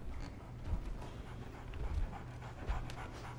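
A dog pants steadily nearby in quiet surroundings, with soft rhythmic breaths and a few faint thumps, and no talking.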